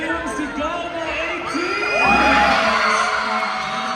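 A fan-event crowd screams and cheers for a performing group, a dense, loud wall of shrill voices and whoops that swells louder in the second half.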